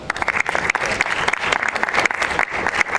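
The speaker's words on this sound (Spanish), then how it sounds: "el doctor Joel Gómez Treviño, quien les pido le demos un fuerte aplauso" Close, lively applause from a modest audience at a law and technology talk, with individual claps distinct and irregular throughout, sustained at an even level.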